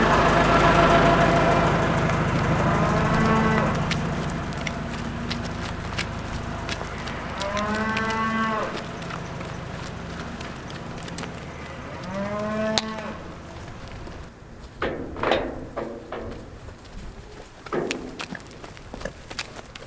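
Cattle moo loudly several times, with long harmonic bellows, as a herd is driven down a chute toward loading with other cows; footsteps, shuffling and knocks follow.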